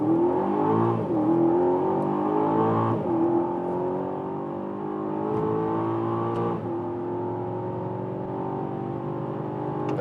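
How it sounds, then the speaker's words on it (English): An Audi RSQ8 or Aston Martin DBX performance SUV accelerating hard from 25 km/h, the engine note climbing through repeated gear changes with brief dips at each shift, loud and close from inside the cabin. "We find a safe spot and accelerate from 25 kilometers an hour and let the hell roll."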